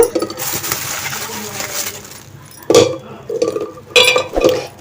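Eggs go clattering into a metal pot while making Telugu egg pickle, with several sharp clinks and knocks in separate bursts near the microphone.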